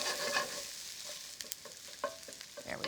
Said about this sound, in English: Let's give these onions just a quick move around the pan.